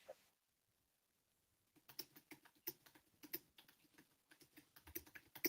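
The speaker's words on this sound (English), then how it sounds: "He's typing to his prison pen pal right now." Someone types on a computer keyboard after a brief silence, giving quick, irregular key clicks that continue steadily and sound near and fairly quiet.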